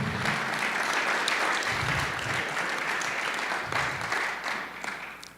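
A church congregation applauds the Lord during a sermon, a sustained wash of many hands clapping at moderate volume that tapers slightly toward the end, with faint voices underneath.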